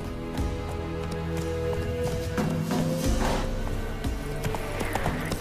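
Horse hooves in The Witcher 3: Wild Hunt clop in a steady trotting rhythm over ambient game sound, fairly close and moderately loud.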